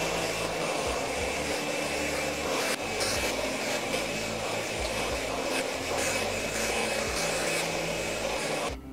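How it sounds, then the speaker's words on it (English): A hair dryer blasts a steady, loud airflow while rough drying hair at the roots, the roar continuous and close for the whole stretch with only slight shifts as it is moved around. "when I'm rough drying, I'm aiming the airflow in at the roots"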